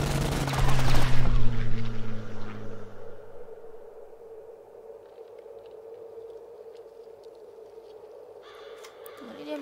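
A shot fired in the card-based WWII strategy game Kards: a loud, brief burst of impact noise near the start with a falling tone, decaying into a steady low hum and soft ambient game effects.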